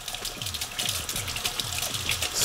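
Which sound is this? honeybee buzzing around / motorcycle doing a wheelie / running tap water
running tap water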